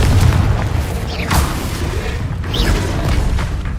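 Confringo spell explosions in the video game Hogwarts Legacy, deep, loud rumbling booms with sharper whooshing bursts layered over a continuous low roar.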